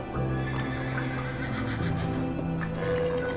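A horse in the Minecraft video game neighs and whinnies loudly and up close, with a clip-clop of hooves and a steady game background running under it for the whole stretch.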